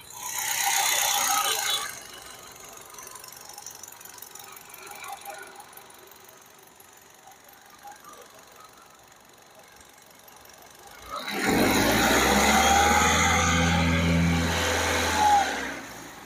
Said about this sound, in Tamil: மைக் இப்ப நான் உங்களுக்கு பக்கத்துல வச்சு இன்ஜினோட சவுண்ட் எப்படி இருக்குன்றதையும் காட்ட போறேன்.